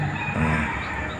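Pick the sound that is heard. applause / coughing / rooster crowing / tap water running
rooster crowing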